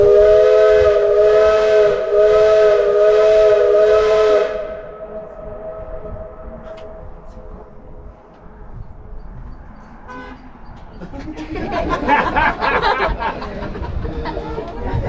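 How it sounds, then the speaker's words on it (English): A loud, sustained steam locomotive whistle blows with a rich harmonic tone for about four seconds in Colorado's Rocky Mountains, then fades, followed by rumbling and hissing from the nearby engine. "folks used to use whistle blasts like that up here to signify things"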